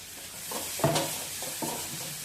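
Frying Betageri chutney ingredients in a pan, a North Karnataka style chutney, with a steady low sizzle and a few short scraping stirs of a spatula, close by.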